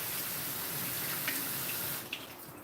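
Running tap water splashes continuously while a glass is rinsed in a sink, a bright steady hiss that cuts off near the end, leaving a few drips and light clinks.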